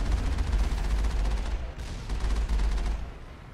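Gun turrets firing in the Mass Effect video game, a steady rapid burst of loud gunfire that rattles on, breaks off briefly, then resumes at full volume with no talking.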